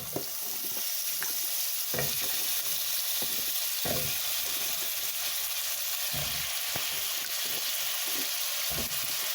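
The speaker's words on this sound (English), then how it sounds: "give it a good stir" Potatoes are stirred into onions and spices frying in a pan for mutton soup, with a loud, steady sizzle and intermittent scraping and clattering of the spoon close by.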